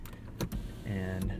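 A power sunshade under the panoramic roof of a 2019 Volvo V60 T6 AWD Momentum runs on its electric motor, giving a steady close whir with a rising tone that follows a few sharp clicks of the overhead controls.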